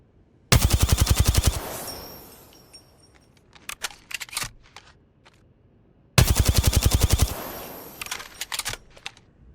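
Rapid gunfire from shooting in a video game, two loud close bursts of automatic fire about five seconds apart, each followed by scattered clicks and rattles.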